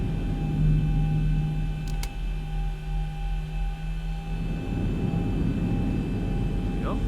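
Aircraft engines in a flight simulator spool up as the throttle is pushed forward during taxi out to the runway, a steady drone with a tone that shifts and builds; someone talks over part of it.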